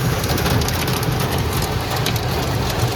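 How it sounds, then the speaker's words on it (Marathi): Heavy stormy rain drums on a road and car during a road trip, a loud dense continuous roar close by without speech. "वादळी पाऊस आहे, वादळी पाऊस."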